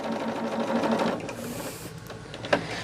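Close by, a sewing machine stitches quilt fabric in a fast mechanical burst that slows and stops, followed by a sharp click near the end.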